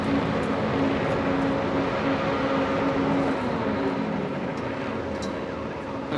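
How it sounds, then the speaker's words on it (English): Rallycross RX Lites cars revving hard on the start line at the 2016 World Rallycross of Canada, a loud, dense roar of several engines sustained for the whole stretch, with no talk over it. "Listen for the revs to come up on the Oryx Lights cars."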